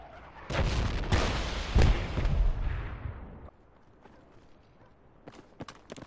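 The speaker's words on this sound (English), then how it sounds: "They're firing grenades at us." Grenades fired at players in a PRTA match on Grozny City: a run of loud, close explosive bangs and rumbling impacts over the first few seconds, fading to quieter distant pops and gunfire.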